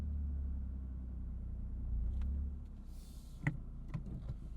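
A manual hot hatch rolls backward out of a parking spot with its handbrake released, a steady low engine rumble close by that softens slightly near the end, with a few faint clicks and one sharp knock.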